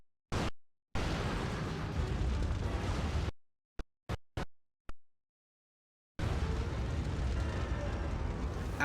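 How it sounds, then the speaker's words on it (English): Gas station blowing up in the video game Resident Evil 3: loud, sustained roaring blasts cut by silence, with several brief sharp pops between, then another long rumbling burst. "and the gas station explodes."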